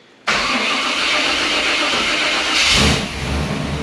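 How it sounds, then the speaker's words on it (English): A truck engine cranks and catches abruptly, then settles into a loud, steady run nearby, with a brief rise in revs before easing back. "Truck's running good."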